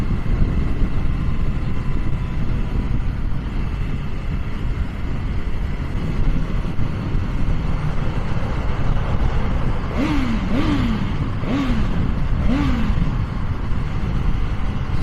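A BMW S1000 R motorcycle engine runs steadily while riding, a loud continuous drone with wind noise, and near the end several short rising-and-falling revs from the engine sound in quick succession.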